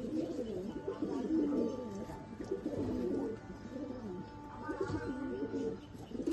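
Pigeons in a hobbyist's collection coo repeatedly in low, throaty rolls that overlap, with a few brief chirps, fairly close and steady throughout.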